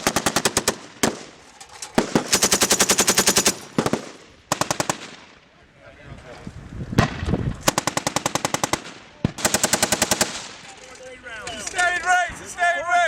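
Live-fire bursts from a U.S. Marine M240G or M2 .50 cal machine gun during an assault exercise: loud, rapid automatic bursts of a second or so, separated by pauses, with shouted voices and echoing reports between volleys.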